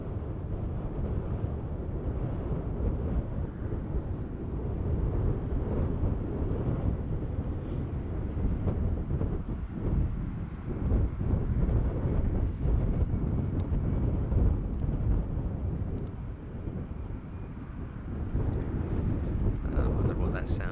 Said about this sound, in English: Just a little bit breezy, a little bit windy here on the roof.